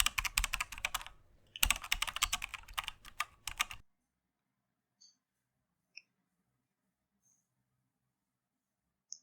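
A computer keyboard clatters with rapid close keystrokes in two quick bursts, then falls almost silent apart from a few sparse isolated clicks.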